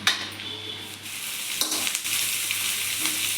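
Egg noodles frying in a pan for street-style egg noodles give off a steady close sizzle, with a few soft stirring scrapes and clinks partway through.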